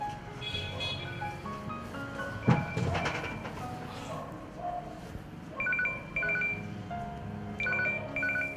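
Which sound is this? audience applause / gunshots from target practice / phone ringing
phone ringing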